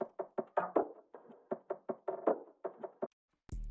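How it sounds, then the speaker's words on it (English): A percussion loop from the Elysium kit plays a steady pattern of short knock-like hits and hand taps with a bouncy, syncopated rhythm, loud and close, then a brief gap before a new deep sound enters at the end. "Then I've got this Perk Loop, which is from the Elysium kit"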